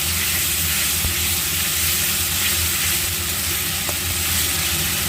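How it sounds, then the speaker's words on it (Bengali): Spices fry and sizzle steadily in a pan while a curry masala is cooked down for a prawn dish, a dense continuous hiss with low stirring rumbles and a couple of faint clicks, no talking. "আচ্ছা মশলাটা আমি একটু কষিয়ে নিলাম"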